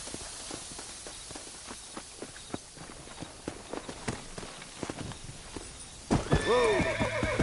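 Horses walk with a steady clip-clop of hooves at close range, followed by a loud drawn-out neigh near the end.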